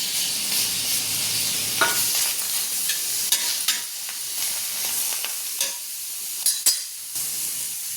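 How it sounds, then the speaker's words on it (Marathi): Raw tomato drops into a hot pan of roasting green chillies and peanuts, a steady frying sizzle broken by sharp stirring scrapes and clacks of a spoon against the pan, close and clear with no voices. "आता शेंगदाणे आणि मिरची भाजत आली, आता त्याच्यात आपण हा कच्चा टमाटा टाकू"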